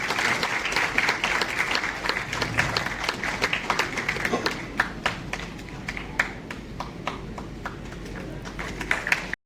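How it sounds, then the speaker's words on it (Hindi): A hall full of people at an award ceremony claps loudly and continuously, dense rapid hand claps forming a sustained roar with crisp individual claps popping out, easing slightly toward the end before a final burst. "एक बार आप सभी के लिए जोरदार तालियां।"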